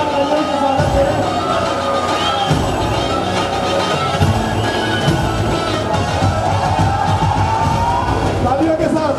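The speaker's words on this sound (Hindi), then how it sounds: "जोरदार तालियों के स्वागत करें" Wedding guests clap and cheer at a Mahila Sangeet celebration as a couple makes their entrance, producing a continuous, loud crowd din of applause, whoops and babble with voices talking over it.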